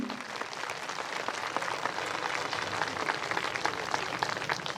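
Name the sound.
audience clapping softly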